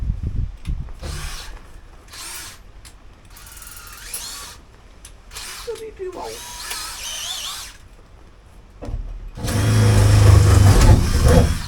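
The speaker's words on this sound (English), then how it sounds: "I'm going to drill." A power drill whirs in several bursts with pauses between, drilling through double-skin van panels and ending in a louder, heavier stretch; a mechanical ratcheting rattle sits between the bursts.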